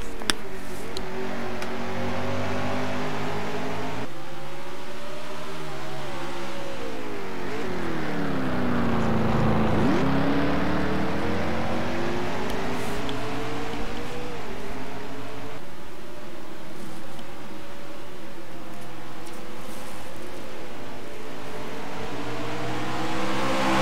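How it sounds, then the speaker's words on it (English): NASCAR race car engines at the Toyota Save/Mart 350 road course, a continuous loud roar rising and falling through gear shifts as the cars accelerate and brake through corners, with no talking. "I swear I hear the engines of the cars ahead a little bit"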